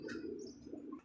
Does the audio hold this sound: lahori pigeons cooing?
yes